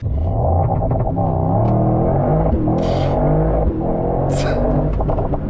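A Mercedes-AMG GT63 with a 4.0-liter bi-turbo V8 roars loudly and steadily up close, rising and falling with a couple of sharp bursts, while someone talks over it.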